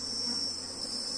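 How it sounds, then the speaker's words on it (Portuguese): Honey bees swarm over an open nucleus hive in an apiary, making a steady dense buzz close up with a thin high drone and no break, and no talk. "Observem, ó, que tem muita abelha nesse núcleo."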